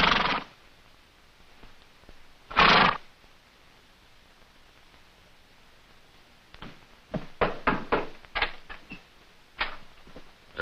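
Several horses ride up in an Old West ranch scene, a loud whinny early and another mid-way, then a cluster of close, clattering hoof and tack sounds toward the end between quiet stretches.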